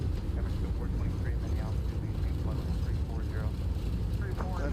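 Boeing 777 freighter thrust reversers roaring at max on a snowy winter landing in the X-Plane 12 flight simulator: a loud, steady, broadband engine rumble that holds throughout, with a voice talking over it.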